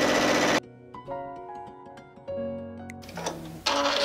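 A sewing machine stitches a quarter-inch seam for a diamond ripple quilt, its steady mechanical whir running in bursts at the start and end with a quieter stretch of tonal hum in between.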